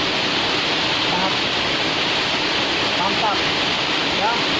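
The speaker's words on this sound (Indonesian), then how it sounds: "Dan di sini air terjunnya ada dua, ya, sangat" Tai Bai waterfall in Polman, two falls pouring over big rocks, heard from beneath a large boulder as a loud, steady, unbroken rushing roar.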